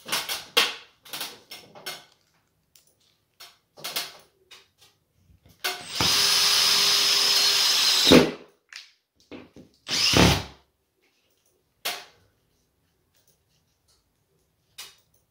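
Power drill driving a drywall screw into plasterboard while fitting a ceiling light, one loud sustained whir of about two seconds and a short second burst, set among scattered clicks and handling taps.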